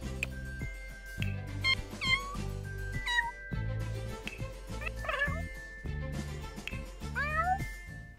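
A kitten in The Sims 4 meows repeatedly in short, high, rising cries over a backdrop of soft chiming game music, each mew distinct and close.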